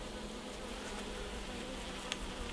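Honeybees buzz around a hive during an apiary visit, a dense, continuous drone close by with faint passing bee sounds on top and no talking.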